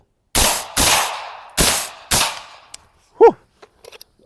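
Four sharp rifle shots fired through an Anechoic titanium suppressor crack in quick succession, each with a short tail, followed by a brief exhale and faint clicks.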